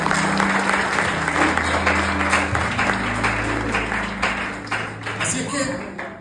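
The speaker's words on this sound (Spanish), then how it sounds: "Un aplauso al modelo." Applause from a youth audience at a church service fills the room, a steady dense clapping with a tonal music bed underneath running throughout.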